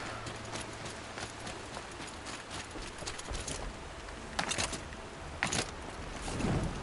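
Horse hooves clopping in the video game Horizon Zero Dawn, a steady, moderately near stream of steps with scattered jangling over a constant ambient bed.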